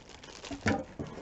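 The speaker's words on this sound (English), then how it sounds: "So let's get this out of the cellophane." A cellophane wrapper crinkles and rustles as it is pulled off a small boxed item, a brief, quiet burst of crackling close by.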